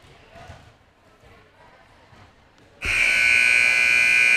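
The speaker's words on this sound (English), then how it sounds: "And there's the buzzer." A loud, sustained electronic buzzer sounds in a high school gym before girls' JV volleyball warm-ups, cutting in abruptly after quiet crowd murmur and holding steady to the end.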